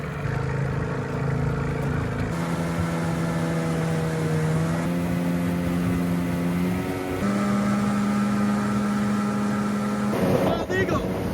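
A two-stroke outboard motor drives a small boat through the water in late fall, a steady droning tone that shifts pitch as the throttle changes, loud and close for the whole stretch, with a brief clatter near the end.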